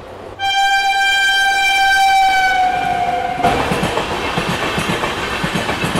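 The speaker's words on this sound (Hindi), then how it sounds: "आ जाती है हिमसागर एक्सप्रेस जो कि अब हम लोगों के बगल से क्रॉस होने वाली है" The Himsagar Express passes close alongside, its horn blaring loud and steady for about three seconds before rushing wheel noise and rhythmic clickety-clack take over.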